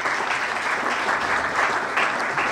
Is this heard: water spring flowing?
no